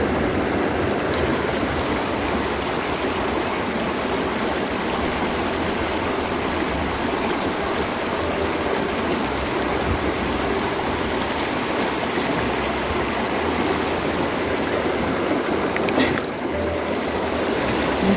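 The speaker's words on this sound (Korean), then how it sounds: "물소리가 있으니까 너무 이쁘죠." Continuous rushing of a stream flowing over rocks outdoors, a steady, even wash of water noise throughout with no break.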